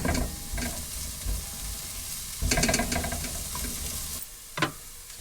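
Food sizzles and fries in a pan at home as it is stirred, a steady hiss with scraping bursts from the spoon partway through and a brief sharp clatter near the end.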